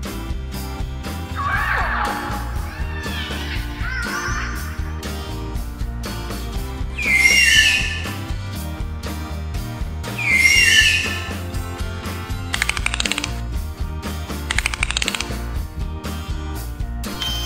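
Dolphin calls for a sea animal learning piece: two bursts of high, squealing whistles stand out over a busy background bed of tones and clatter, with no speech.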